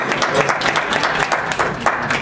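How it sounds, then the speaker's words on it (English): Steady applause from a crowd gathered at an oil-subsidy protest in New York, welcoming a speaker, sustained and fairly loud with dense overlapping claps throughout. "A round of applause for her."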